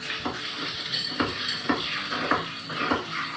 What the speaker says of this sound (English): I'm going to stir it in like a 3D motion to bring the mint and the lime up